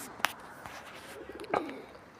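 Pigeons coo softly on a rooftop, a few low, muffled calls heard at a distance under faint outdoor background noise, with a couple of brief sharp knocks.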